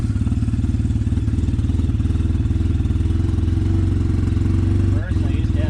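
A Wildcat 700 side-by-side fitted with a Dalton clutch kit runs steadily close by, its loud, rhythmic engine throbbing unbroken, with a brief dip in the note near the end.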